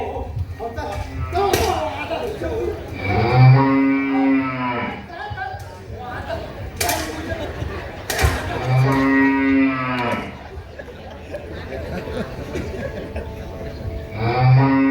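A cow moos loudly and close by, two long deep lowing calls, amid thumps and shuffling with people talking around it.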